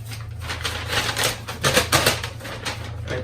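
Crinkling paper bag being handled and rustled, with repeated dry crackles and rustles over a steady low hum, close and fairly loud. The bag holds smoked teriyaki jerky.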